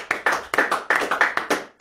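Church congregation clapping in unison, a loud, close series of rhythmic, evenly spaced group claps, about seven beats with slight echo and no talk.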